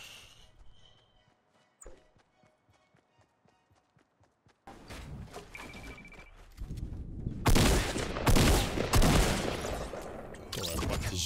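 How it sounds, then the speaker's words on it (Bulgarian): Sniper rifle and pump shotgun fire in the video game Fortnite, scattered sharp shots that sit quiet at first, then grow loud and dense, with a busy stretch of rapid overlapping blasts near the end. "С снайпер или с помпа или с какво ли не го стрелях?"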